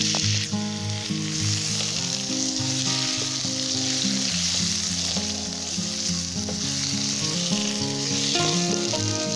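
Marinated chicken pieces fry with onions in a pan for ginger chicken, a loud, steady sizzle with stirring scrapes running continuously up close, with no one speaking.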